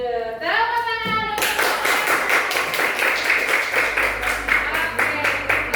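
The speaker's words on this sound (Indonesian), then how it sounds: "Tepuk tangan." Schoolchildren in a classroom clap their hands together in a quick, loud, rhythmic run of sharp claps close by, after a brief stretch of a voice at the start.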